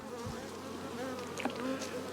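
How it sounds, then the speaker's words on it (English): Honeybees from a strong colony buzz steadily and close around an open hive box, a continuous dense insect drone with a few louder individual bees passing near. "Lots of bees."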